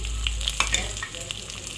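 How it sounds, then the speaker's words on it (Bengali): Potatoes frying in hot oil in a Bengali shol fish curry preparation, with ginger paste added to the pan; steady close sizzling with a few sharp crackles and stirring clicks. "আলুগুলো একটু ভাজা ভাজা করে নেওয়ার পরে এখানে দিয়ে দিলাম সেই আদা বাটাটা"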